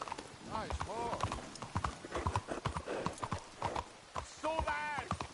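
Horse hooves clip-clop steadily in the Red Dead Redemption video game, mixed with a whinny and game voices talking over the rhythmic footfalls.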